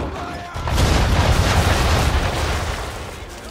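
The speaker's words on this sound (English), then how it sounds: "Bring around broadside, and when all guns are on target," Ship cannon broadside in Assassin's Creed III naval combat: a loud sustained roar of blasts kicks in after half a second and rumbles heavily for nearly three seconds before slowly fading.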